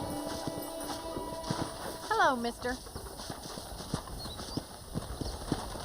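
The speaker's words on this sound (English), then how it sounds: "I picked out a fine horse for you." Horse hooves clip-clopping at a steady walking pace in the Red Dead video game, soft and close under ambient game music, with a horse whinny and a brief spoken greeting partway through.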